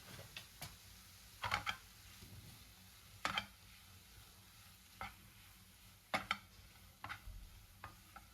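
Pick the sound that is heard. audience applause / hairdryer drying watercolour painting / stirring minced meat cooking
stirring minced meat cooking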